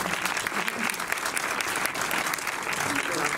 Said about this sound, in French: Elle est là, on peut l'applaudir au passage.